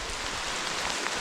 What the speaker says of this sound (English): hopefully you can hear the rain coming